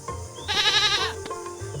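A goat in a Meena cartoon video game gives a single clear, wavering bleat lasting about half a second, with faint game sounds around it.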